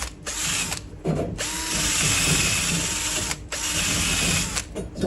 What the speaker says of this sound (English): We put our wire brush on here now